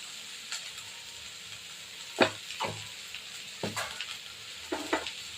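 Okra stir-fries with turmeric in a pan, a quiet sizzle broken by several sharp scraping strokes of a spatula at irregular intervals.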